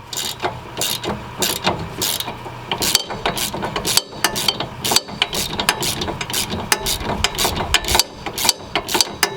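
A wrench ratchets rapidly while loosening strut bolts on a 2011-2019 Ford Explorer during a front strut replacement, giving close, loud bursts of clicking pawl strokes with brief pauses between runs.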